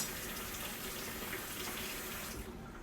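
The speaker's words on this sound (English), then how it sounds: "let me cut the water off so y'all can hear me." A kitchen tap runs at full flow, a steady close hiss of water into the sink that drops off near the end.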